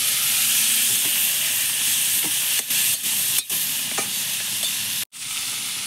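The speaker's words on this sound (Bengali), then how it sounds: "মাছগুলো আমি ভালো করে ভেজে নেব" Salted hilsa fish frying in hot oil, a loud, steady hiss and crackle of sizzling that fills the clip, broken by a few brief dips and one short sharp gap near the end.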